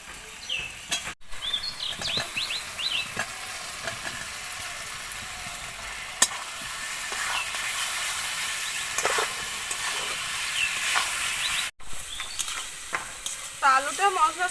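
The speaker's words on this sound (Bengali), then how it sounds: "আলুটা মশলার সাথে আমি খানিকক্ষণ একটু নাড়াচাড়া করে নিয়েছি" Fried potatoes are stirred with a spice paste of poppy seed and melon seed in a pan, giving a continuous close sizzle and hiss with scraping spoon strokes, a brief clatter near the end.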